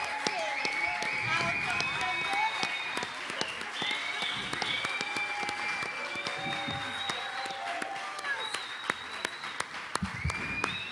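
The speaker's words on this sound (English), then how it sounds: "So please, a huge round of applause for the baddest." Concert crowd at the Rototom Sunsplash reggae festival applauds as a performer takes the stage, a dense spread of clapping and cheering with whistles and shouts rising over it, while a voice speaks through the din.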